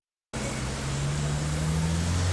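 Car traffic at a busy city crossroads, a steady loud roadside wash of engines and tyre noise that begins abruptly after a moment of silence, with a low engine hum running through it.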